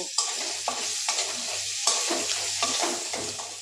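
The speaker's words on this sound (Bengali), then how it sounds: "এবারে পেঁয়াজটাকে একটু নেড়ে চেড়ে" Chopped onion is stirred and fried in a pan while cooking taro greens with hilsa fish head, giving a continuous sizzle broken by repeated scraping stirs of a utensil, close and fairly loud, with no talk.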